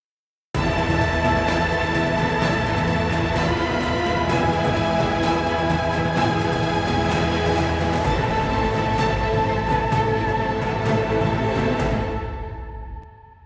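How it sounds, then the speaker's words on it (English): Full orchestral strings play steadily and loud, with repeated downward violin runs over sustained lower parts, fading out at the end. "Then I added these really simple violin runs downwards."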